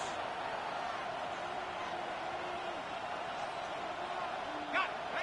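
Crowd noise in a football video game, a steady, full-stadium roar that holds at an even level throughout, with a slight swell near the end.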